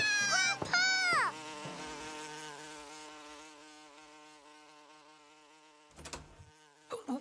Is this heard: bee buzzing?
yes